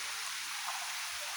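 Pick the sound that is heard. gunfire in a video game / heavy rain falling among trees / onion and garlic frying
heavy rain falling among trees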